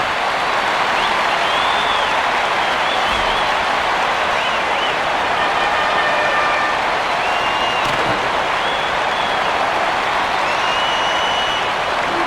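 Arena crowd in the ice hockey video game Gretzky NHL 2006 cheers and applauds after a fight, a loud, dense, sustained roar with faint whistles rising through it, steady for the whole stretch.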